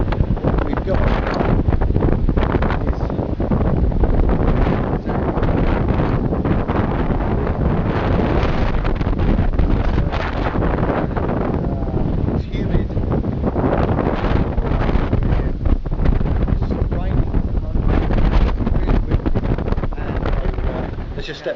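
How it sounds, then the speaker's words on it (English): Strong cyclone wind roars continuously outdoors during Cyclone Izilda, a loud, steady buffeting with heavy gusts battering the microphone throughout. "if you sit outside, you'll hear the wind"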